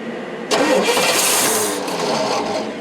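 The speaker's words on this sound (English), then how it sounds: "Well, it wants to start up." Engine of a 1976 GMC Motorhome, after sitting unused for months, cranks briefly and catches, then runs on with a loud, steady roar close by; no talking.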